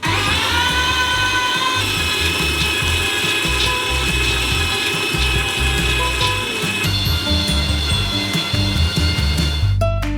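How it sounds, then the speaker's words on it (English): An electric meat grinder runs continuously and loud as it forces nuts through a small nozzle, a steady mechanical whine with layered tonal hum, up close, with a short clatter at the very end. "We transfer them into a meat grinder. And grind them through a small nozzle."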